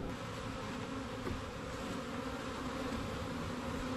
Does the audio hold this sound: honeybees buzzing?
yes